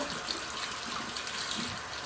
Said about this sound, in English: take my bar of soap here, run it under the water